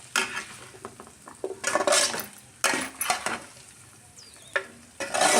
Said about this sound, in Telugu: సో దీన్ని బాగా మిక్స్ చేసుకోవాలి.